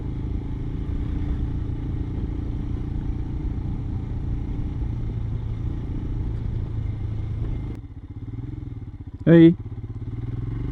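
Royal Enfield Himalayan motorcycle held in second gear off-road over rough terrain, a steady close engine rumble with clatter, then a brief dip in tone and one short voice exclamation.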